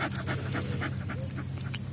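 A dog pants steadily and rapidly close by during an outdoor walk, quick rhythmic breaths that continue throughout without any talking.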